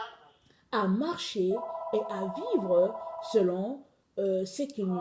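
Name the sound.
telephone ringing during a sermon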